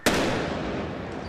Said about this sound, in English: causing this explosion.